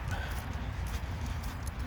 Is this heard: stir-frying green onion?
no